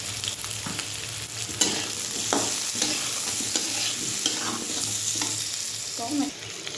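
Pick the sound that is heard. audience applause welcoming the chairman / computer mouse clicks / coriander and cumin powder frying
coriander and cumin powder frying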